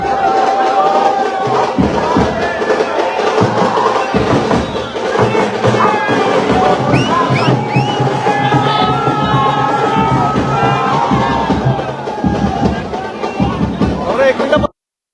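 A crowd of party workers cheers and shouts loudly to celebrate an election victory, with dense, continuous roaring, whoops and chanting voices close by.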